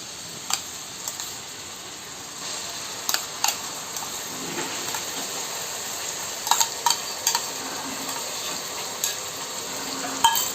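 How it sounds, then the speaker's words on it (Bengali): Spice paste of onion, garlic and ginger is poured into onions frying in a pan for a desi chicken curry, giving a soft, steady sizzle with occasional small clicks and no talking. "এবার আমি ওই যে পেস্টটা বানিয়েছিলাম সেই পেস্টটাকে আমি এখানে ঢেলে দেব।"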